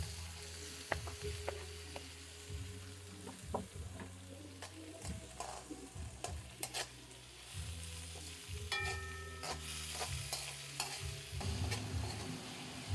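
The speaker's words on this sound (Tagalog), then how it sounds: "Sunod natin yung sibuyas. Add na natin yung kamatis." Onion and tomato sautéing in a pan for sinigang with beef, a steady sizzle broken by repeated scraping stirs and utensil clinks, close and moderately loud with no talking.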